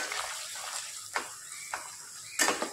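Mutton masala and garam masala sauté in a pan, a soft sizzle broken by several sharp scrapes of stirring at irregular intervals, with the last scrapes the loudest.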